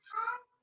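A house cat gives a single short meow indoors, a clear close call lasting under half a second with nothing else around it.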